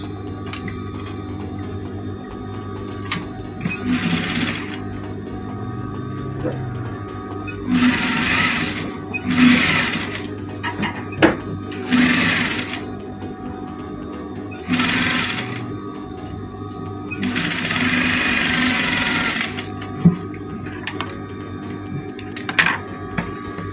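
A sewing machine stitches a boy's African-style top in several close, loud whirring runs of a few seconds each, separated by pauses with faint handling clicks and fabric shuffling.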